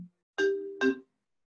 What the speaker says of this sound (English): I don't know why it's ringing.